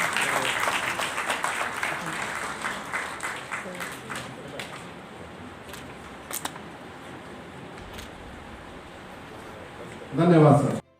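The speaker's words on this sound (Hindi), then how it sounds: "जोरदार तालियां।" An audience at a Delhi teachers' felicitation ceremony gives loud applause that is dense at first, then tapers into scattered claps and room noise, followed by a short spoken phrase at the end.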